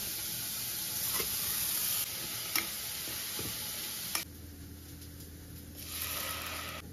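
Cumin seeds sizzle in hot oil in a ceramic pot, a steady close frying hiss with a few sharp clicks and stirring knocks, the sizzle softening partway through.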